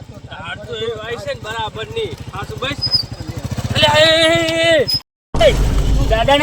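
A motorbike engine throbbing steadily up close, a pulsing low chug under loud overlapping speech, briefly cut out before returning with a deeper rumble and wind buffeting.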